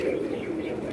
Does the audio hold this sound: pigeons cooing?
yes